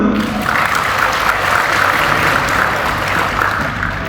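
An audience at a National Teachers' Month seminar in Malang Raya applauds the teachers, producing sustained, loud and evenly textured clapping from a large crowd throughout.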